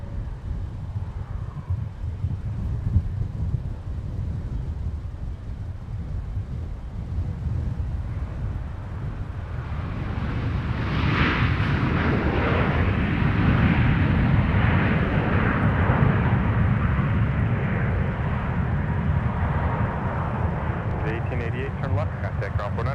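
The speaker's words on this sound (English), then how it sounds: "Here is United coming in from Chicago O'Hare with a 737 MAX 9." A United Boeing 737 MAX 9 from Chicago O'Hare lands at Minneapolis–St. Paul airport. Its broad jet roar swells midway and stays loud over steady wind buffeting, with voices heard at times.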